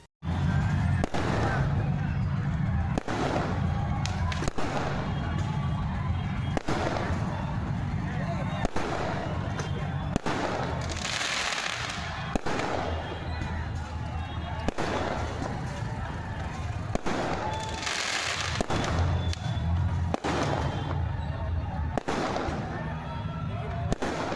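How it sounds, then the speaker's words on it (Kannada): Firecrackers burst repeatedly in loud, irregular volleys, sharp cracks and booms overlapping with a constant roar of distant bangs, set off by cricket fans celebrating an IPL final win in Shiggavi. "ಎಲ್ಲೆಡೆ ಆರ್ಸಿಬಿ ಅಭಿಮಾನಿಗಳು ಪಟಾಕಿ ಸಿಡಿಸಿ ಸಂಭ್ರಮ ಭರ್ಜರಿಯಾಗಿತ್ತು"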